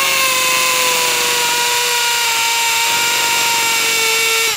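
A Bosch power drill runs at a steady high pitch, loud and close, its motor whine holding constant throughout with no voices.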